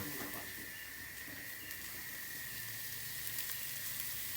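Rat meat dry-roasting in a pan for a rural Thai-Lao stew, giving a steady broadband sizzle with faint crackles throughout, fairly close and continuous, with no clear talking over it.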